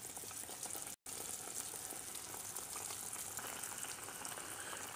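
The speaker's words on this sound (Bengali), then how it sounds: "এখন দিয়ে দিচ্ছি তেলের মধ্যে" Food sizzles in oil heated on a stovetop, a steady close crackling hiss with a busy bubbling texture and one brief dropout.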